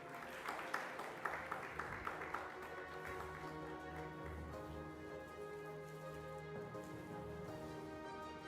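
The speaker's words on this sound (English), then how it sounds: "A round of applause, ladies and gentlemen" An audience applauds at a televised panel discussion on India's tourism sector, a steady, dense patter of clapping that starts with a few sharper claps and carries on evenly at moderate volume.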